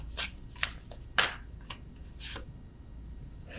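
Love oracle cards being shuffled by hand, a few quiet separate riffling and slapping bursts with pauses between, close and alone.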